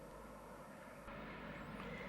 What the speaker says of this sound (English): Flight Lieutenant Rob Lee puts the Harrier through its paces.